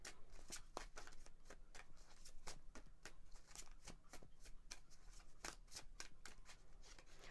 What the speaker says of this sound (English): So I'm gonna give these a quick shuffle